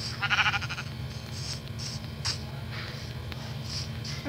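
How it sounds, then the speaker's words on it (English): Sheep bleats from the Minecraft video game come through in short repeated calls, the first the loudest, over a low steady game background hum with no talk. "Just kill this sheep."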